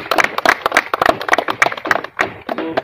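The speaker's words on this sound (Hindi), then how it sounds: "तो सबसे पहले एक बार तालियां चैनल के लिए हो जाए।" Loud, close clapping from a crowd at a school kabaddi competition, an uneven flurry of sharp hand claps that thins toward the end.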